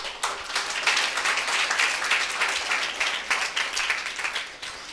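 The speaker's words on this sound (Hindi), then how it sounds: "जोर से तालियां बजाइए।" A church congregation claps loudly and continuously during a Hindi sermon, a sustained wash of many hands at moderate distance with no speech over it.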